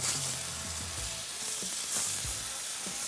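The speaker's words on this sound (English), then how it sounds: "I'm going to get a little bit of oil in and get those tomatoes in" Tomatoes sizzle in a little oil on a hot cast iron grill grate, giving a steady close crackling hiss with a few soft low knocks underneath.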